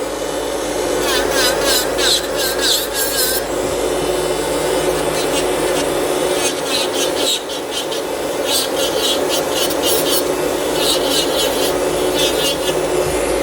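An electric nail sander files a gel nail filling, a steady close whir running throughout, with bursts of higher grinding as the bit touches the nail.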